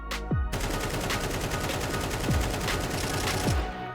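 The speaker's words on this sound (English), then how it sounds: "that's me trying to learn the recoil of the AK" Sustained automatic AK rifle fire in Counter-Strike 2, a loud rapid stream of shots with a few spent casings pinging, continuous for nearly four seconds with no voices.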